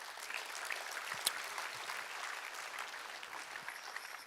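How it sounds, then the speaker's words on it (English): A conference audience applauds steadily throughout, a dense, even patter of many hands clapping at moderate distance with no talking over it. "give yourself a round of applause."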